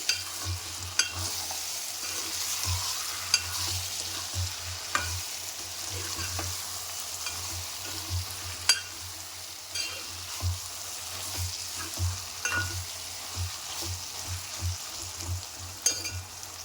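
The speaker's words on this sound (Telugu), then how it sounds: "పసుపు వేసుకొని కలుపుకోవాలండి మొత్తం" Brinjal curry with turmeric stirred through it as it fries in a pan, a steady close sizzle broken by repeated scraping stirs and spoon knocks, with no voices.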